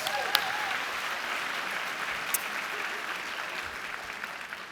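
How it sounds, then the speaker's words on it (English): Another round of applause rises from the audience after the opening session speaker at the Making Schools Work education conference, a fairly quiet, distant, steady patter of many hands with a couple of sharp louder claps. "Let's give him another round of applause"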